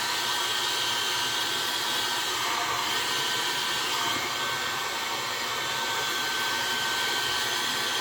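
Heat gun blowing hot air onto a vinyl hood scoop overlay decal on a Toyota Tacoma or 4Runner, a constant loud whooshing hiss that holds steady throughout.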